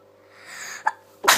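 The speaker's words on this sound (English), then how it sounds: "I'm going to sneeze in a minute." A single sharp sneeze bursts out near the end after a quiet indoor stretch with a small breathy lead-in, loud and close, no talk.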